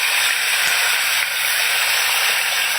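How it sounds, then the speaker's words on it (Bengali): Fish frying in hot oil in a wok gives off a steady, loud sizzle and hiss that stays even from start to finish, with a few faint pops. "প্রথমে কড়াইয়ে তেলের উপরে মাছগুলো তেল গরম হলে ছেড়ে দিলাম।"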